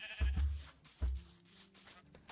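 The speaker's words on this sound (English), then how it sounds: "These are my sheep for when I need wool" Video-game sheep kept for wool bleat in a few close, low calls, two quick ones then another after a pause, with a fainter cry near the end.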